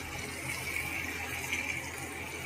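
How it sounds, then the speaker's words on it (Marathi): Water is poured into a pan of bombil (Bombay duck) fish curry, producing a soft, steady splashing hiss that runs evenly for a couple of seconds at moderate distance. "आपण मग त्याच्यात पाणी घालून घेऊ."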